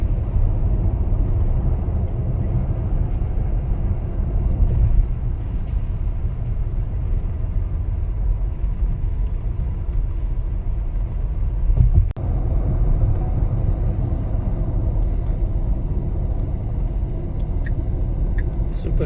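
Tesla Model X Plaid electric SUV rolling along a highway exit ramp, heard from inside the cabin as a steady, loud low road rumble and tire noise that holds evenly throughout with no distinct events.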